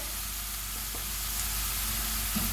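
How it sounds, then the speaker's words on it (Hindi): Chopped onion frying in a spoonful of ghee in a pan, a steady close hiss and sizzle with soft crackle throughout, no talking. "इसमें 1 चम्मच घी ऐड करेंगे, प्याज ऐड कर देंगे।"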